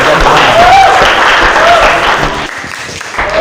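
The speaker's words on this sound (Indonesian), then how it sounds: "Kita beri aplaus untuk teman-teman." Classmates applauding in a school classroom during a Western music lesson, a dense, steady wash of clapping from a group that thins and fades toward the end.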